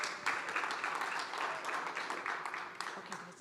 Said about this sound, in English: So if everyone can give them a huge round of applause,